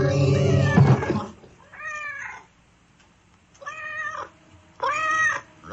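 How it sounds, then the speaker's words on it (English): A cat meows three times in a radio drama sound effect, loud and close with gaps between the calls, after a brief burst of low noisy sound at the start. "Roger the cat saw everything with her yellow eyes."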